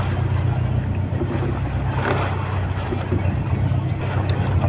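A fishing boat's engine runs at sea on a tuna trip, a loud steady low drone with wind rushing over it, alone without talk.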